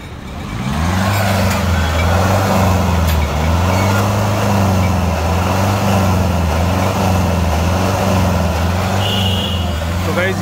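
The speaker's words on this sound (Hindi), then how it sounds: "तो गाइस अभी हम करते हैं गाड़ी को स्टार्ट और एक बार आप लोगों को दिखाता हूँ कि डीजल में आवाज़ कैसी आ रही है।" A 2020 Mahindra Thar convertible diesel engine with an aftermarket G-Wagon-style exhaust, starting and then idling loud and close, with a deep steady throbbing rumble that stays constant throughout.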